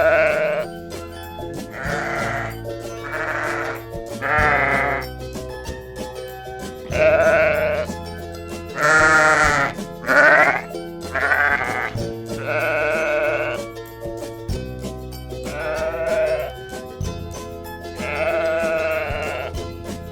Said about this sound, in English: sheep माने भेड़।